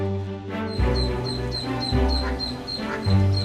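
Ducklings give repeated short quacking calls, close and fairly loud, over a sustained tonal background.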